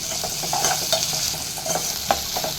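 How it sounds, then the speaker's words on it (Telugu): Green chillies and ginger-garlic paste sizzle steadily in a hot pan while a spoon stirs through them, with soft scraping clicks over the continuous frying hiss, close and alone. "2 పచ్చిమిరపకాయలు, 1 టేబుల్ స్పూన్ అల్లం వెల్లుల్లి పేస్ట్ వేసుకొని బాగా కలుపుకోవాలి."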